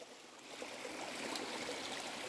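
Steady, soft rush of a stream of running water beside the Pine Mountain backpacking trail, a continuous faint wash with no voices.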